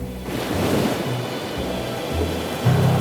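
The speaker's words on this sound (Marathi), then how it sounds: "गेल्या तीन दिवसापासून लाटा जास्त उसळत आहेत" Sea waves surge and rumble in an animated story scene, a steady roar of surf with swelling low washes and a louder surge near the end, no voices over it.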